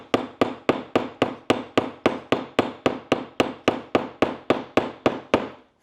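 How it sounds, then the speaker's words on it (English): A ball peen hammer flattens a rivet on a leather duffel bag: a steady, rapid run of about eighteen sharp, close metallic taps at an even rhythm, with no talking. "my ball peen hammer, and I'm just going to"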